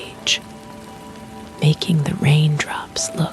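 Steady rain falls at night outside an old window, a soft continuous hiss under a close, gently whispering voice.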